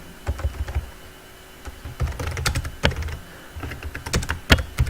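Typing on a computer keyboard gives a steady run of close, crisp key clicks in uneven clusters with short pauses, entering text while building a simple two-player game, no voices.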